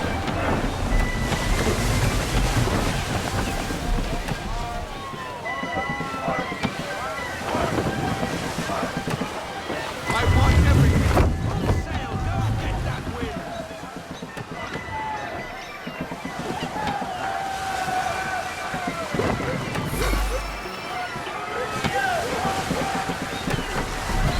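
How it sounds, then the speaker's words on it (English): Sailing ship battling strong wind on the open sea in Assassin's Creed III, with steady roaring wind, rushing waves and creaking hull running throughout, a heavy gust swelling midway, while voices shout orders over it. "Rogue wind! Haul in to half sail!"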